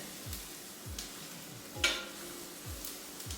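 Sliced onion sweats in a pan with a gentle sizzle, broken by regular stirring strokes and a single light clink of a utensil.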